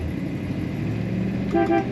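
Horn of a 1957 Ford Fairlane 500 Club Victoria sounding two short honks near the end, heard from inside the car over a low engine and road rumble while driving.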